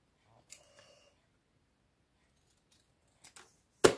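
Scissors cutting paper scraps while making a paper tag, heard as a few sparse, brief snips, with the sharpest and loudest cut near the end and near silence in between.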